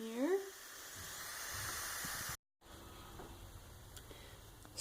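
An Instant Pot releases steam after pressure cooking with a steady, loud hiss that runs for about two seconds, breaks off briefly, then resumes more faintly. A short rising tone sounds at the start.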